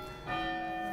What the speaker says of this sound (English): There goes the bells.